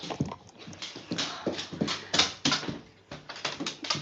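Dog moving around indoors, with a steady run of close clicking and tapping, like claws on a hard floor, mixed with small scuffles and sniffs at a moderate level.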